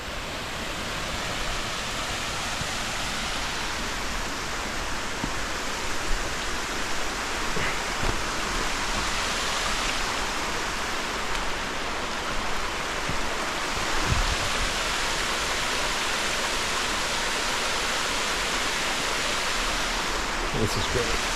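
Wadsworth Falls waterfall roars as a steady, loud broadband rush of falling water, continuous throughout with a few faint bumps and rustles nearby.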